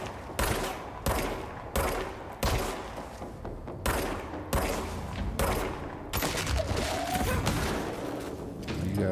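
Bursts of heavy gunfire from the video game Control: AWE come in loud, sharp volleys separated by short gaps, mixed with game rumble and someone talking over the shooting.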